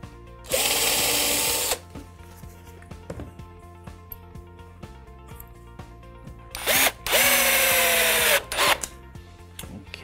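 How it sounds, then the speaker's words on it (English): A power drill bores pilot holes and drives screws into wooden pallet slats while a wall shelf is assembled, with two loud whirring bursts of about a second each, separated by quiet tapping and handling noises. "we can fix these into position by drilling a line of pilot holes all the way down this side and screwing in to the centre of these"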